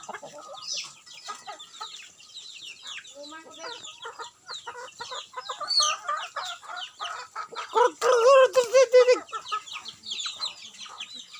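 Chickens cluck and chatter while feeding in a busy, irregular stream, close by, with a louder burst of squawking calls near the end.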